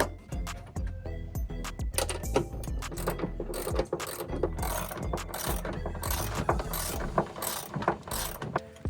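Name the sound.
attaching rear leaf spring bolt with ratchet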